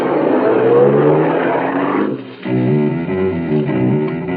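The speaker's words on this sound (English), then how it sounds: "I got in and drove off." A small sedan starts and pulls away as a staged radio-drama effect, a loud rumbling engine building and revving before a brief dip, then settling into a steady harmonic drone that carries on to the end, with no voices.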